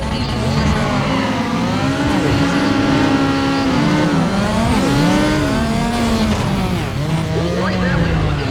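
A Renault race car in the racing game Need for Speed ProStreet, its engine loud and close as it revs up and down through gear shifts, with tire squeal under a commentator's voice.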